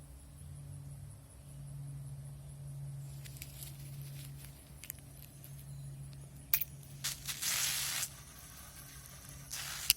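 A burst of Mace pepper spray hisses sharply from the canister for about a second, followed by a shorter hiss, over a low steady hum and faint background noise.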